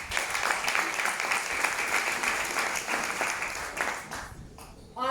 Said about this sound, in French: un tonnerre d'applaudissements pour ma upline